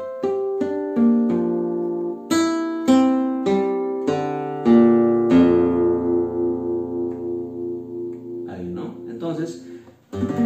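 Guitar playing an Ayacuchano huayno in the Baulín-Diablo open tuning, plucked notes and strummed chords ringing out in a steady rhythm before fading into a brief flurry at the end, close and clear with no voices.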